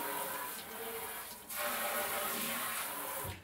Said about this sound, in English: is we're just gonna get some water in here.